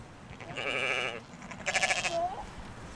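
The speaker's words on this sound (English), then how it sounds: "These Dorper sheep are well suited to mountain life." Dorper sheep on a mountain farm give two close, clear bleats, the second more wavering, over quiet background noise.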